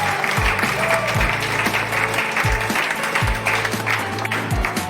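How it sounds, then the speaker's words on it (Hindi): Audience applause fills a hall during a store gathering in Goa, a steady wash of clapping over a thumping rhythmic music bed that pulses throughout. "एक बार अपने आप में जोरदार तालियां"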